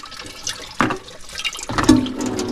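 Thin stream of water trickling from a low-pressure tap, a faint steady splash with a couple of sharper bursts, close by and alone.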